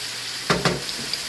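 Corn frying in a pan for a fried corn side dish, with two short close stirring scrapes over a faint steady sizzle, then quiet frying with small ticks.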